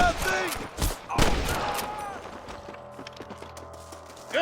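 Sniper gunfire in a Red Dead Redemption shootout, several sharp shots ringing out in quick succession, then scattered fainter pops, with shouting voices and galloping hooves mixed in.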